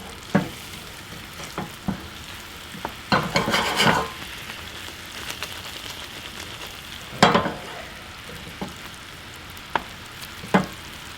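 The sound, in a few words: pork belly flipped with rubber spatula in Jack and Coke glaze, non-stick pan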